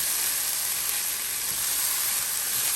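Carrot, celery and peppers sauté in a hot pan, giving a loud, steady sizzling hiss close by that holds evenly from start to finish without talking.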